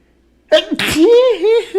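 A single loud, sharp sneeze close up, followed right away by a voice talking.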